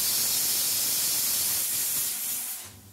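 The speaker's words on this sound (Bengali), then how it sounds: "একটা সিটি পড়লেই আমি গ্যাসটা বন্ধ করে দেব।" A pressure cooker on a gas stove cooking chana dal whistles as it releases steam, a loud, steady, close hiss held for nearly three seconds before it starts to fade.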